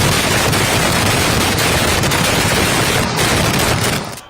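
Pooram fireworks exploding in daylight at a temple festival, a deafening, unbroken barrage of rapid blasts that fills the whole stretch and cuts off abruptly at the end.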